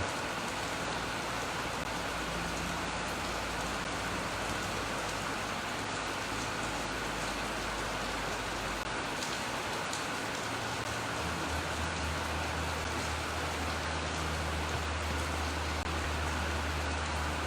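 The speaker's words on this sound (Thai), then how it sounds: "วันนี้ฝนตก" Steady rain falling during an early-morning meditation session at a Buddhist monastery in Thailand, a continuous dense hiss that stays even throughout, with a low rumble beneath and no voices.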